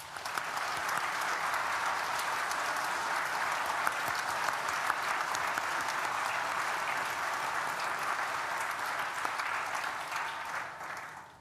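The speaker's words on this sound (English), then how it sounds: "Please join me in thanking them with a well-deserved round of applause" A graduation ceremony audience for architecture, design and built environment graduates claps in sustained, dense applause, loud and steady for about eleven seconds before easing off at the end.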